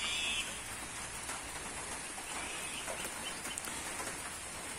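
Steady light rain falls on a duck and chicken farm, a soft continuous patter with faint scattered drops and no voices, heard at low level throughout.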